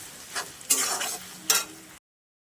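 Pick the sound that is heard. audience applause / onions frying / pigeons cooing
onions frying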